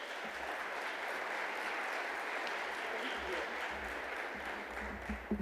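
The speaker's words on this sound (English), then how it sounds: "A round of applause as they take to the podium," An audience at a ministerial summit applauds as presenters walk up to the podium, a steady wash of clapping held at even level throughout, with a few low thumps near the end.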